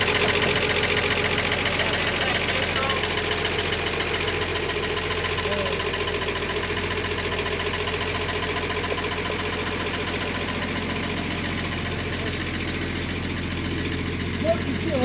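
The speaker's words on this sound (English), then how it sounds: "it's idling" An old 1953 Chevrolet engine idles steadily with a low, even rumble and a faint knocking texture. It runs continuously and fairly close, with no clear voices over it.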